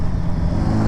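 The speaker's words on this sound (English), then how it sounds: "This bike drives very well" 1975 Honda Goldwing motorcycle engine while riding, a brief, loud, steady low drone heard close and alone.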